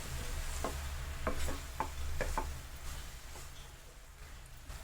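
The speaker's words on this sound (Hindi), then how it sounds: "और शक्कर को गाजर में मिक्स करेंगे।" Spoon stirring sugar into grated carrots for carrot halwa in a pan over a low-to-medium flame, a handful of soft scraping strokes against a steady low hum.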